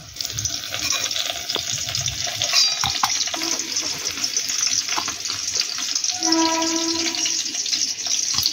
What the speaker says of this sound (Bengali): কাঁকরোলগুলোকে বেশ লালচে করে ভেজে নিয়েছি, এবার এগুলোকে আমি তুলে নেব।